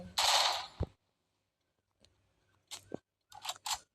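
MP5 fire in the Free Fire mobile game comes as a sharp burst of rapid shots, then near silence and a few more short, crisp bursts, close and punchy.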